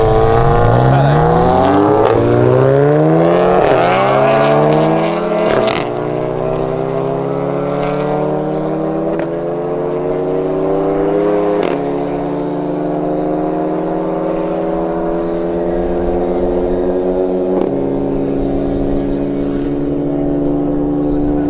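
A Volkswagen GTI revving hard, with rising engine harmonics climbing in pitch over the first seconds, then holding a loud steady drone close by, while people talk over it.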